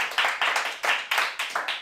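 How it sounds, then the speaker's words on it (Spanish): An audience at a small concert session claps in quick, distinct, rhythmic hand strikes, a light round of applause heard alone and close. "Un aplauso para el público."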